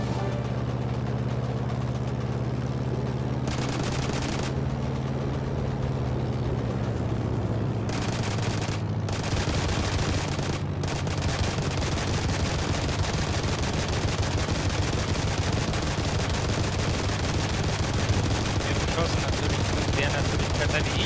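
Gunfire in the World War II shooter game Heroes & Generals, dense bursts and shots running continuously under engine-like rumble and game noise, with players talking over it.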